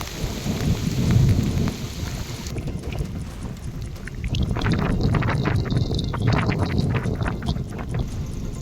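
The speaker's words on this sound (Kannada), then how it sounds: "ಯಾದಗಿರಿ ಜಿಲ್ಲೆಯಲ್ಲೂ ಬಿರುಗಾಳಿ ಸಹಿತ ಭಾರೀ ಮಳೆ ಸುರಿದು ಜನಜೀವನ ಅಸ್ತವ್ಯಸ್ತವಾಗಿದೆ" A heavy thunderstorm with strong wind lashes Yadgir district in Karnataka: dense, steady rain pours throughout while deep rolling thunder rumbles underneath, loud and continuous for the whole stretch.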